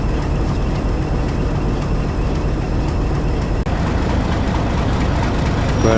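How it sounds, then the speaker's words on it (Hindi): Hazara Express train pulling out of Chaklala railway station, a steady loud rumble of engine and rolling wagons filling the whole clip with no talk. "डाउन हज़ारा एक्सप्रेस का भी सिग्नल डाउन हो गया, अभी ये कुछ देर में निकल जाएगी यहाँ से।"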